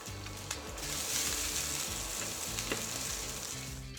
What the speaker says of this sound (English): Into the pan we just cooked the chicken in goes the garlic, chili and spring onion whites.